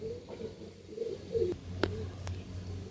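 Aggressive, good-quality pigeons coo softly in low, throaty bursts at close range, with a couple of sharp clicks or taps cutting through near the end, no talking.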